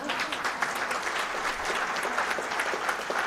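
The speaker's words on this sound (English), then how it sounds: "let's give her a big round of applause." Audience applause at a public policy book series launch event, steady dense clapping from a crowd filling the whole stretch with no talk over it.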